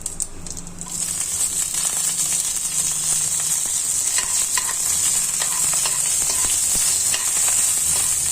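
Green chillies, urad dal, chana dal, mustard and cumin seeds fry in oil for a chutney tempering, a loud steady sizzle with crackles and stirring scrapes close by; no voices.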